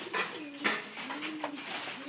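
Purchased pigeons cooing nearby in repeated low, rolling calls, a few overlapping coos at moderate loudness with faint rustling between them.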